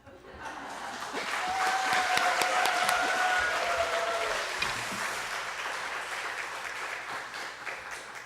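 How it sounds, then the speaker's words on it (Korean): Church members give warm, sustained applause to welcome their pastor at a training session. The clapping swells and then gradually thins, with a faint tonal voice-like sound drifting under it early on. "목사님 나올 때 큰 박수로 환영하겠습니다"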